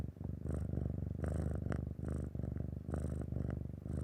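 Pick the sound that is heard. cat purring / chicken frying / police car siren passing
cat purring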